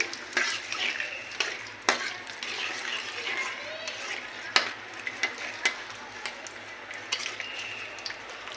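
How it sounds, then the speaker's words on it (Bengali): Dried red chillies, about six or seven, fry in hot oil in a pan for an olive pickle, giving a steady sizzle broken by sharp clinks and scrapes of a utensil against the pan. "আমি 6-7টার মতো শুকনো মরিচ দিয়ে দিলাম।"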